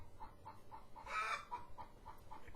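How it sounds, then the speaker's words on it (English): A pet hen clucks repeatedly nearby, a run of short rhythmic clucks with one louder, drawn-out squawk in the middle, alone with no talking. "she either wants food or she just laid an egg and she wants to announce it to me."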